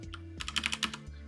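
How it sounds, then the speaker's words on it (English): Typing on a computer keyboard, a short quick run of about eight close key clicks over a faint background hum. "as I'm typing this out"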